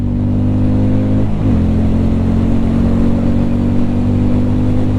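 A Hero Hunk 440 motorcycle engine revs hard toward its rev limiter, a loud, close, steady buzzing drone whose pitch wavers briefly early on and then holds constant and high.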